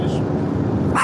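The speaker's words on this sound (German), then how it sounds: "Ey, was ist los mit dem Hund, Cesar?" A dog barks in a short, loud burst, close by, over steady background noise.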